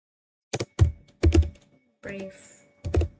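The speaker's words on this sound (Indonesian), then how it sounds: "kita akan mengetik perintah show IP" Someone types a command at a computer keyboard while setting up a router in Cisco Packet Tracer: short bursts of close, sharp key clicks with brief pauses between them, and a soft murmur partway through.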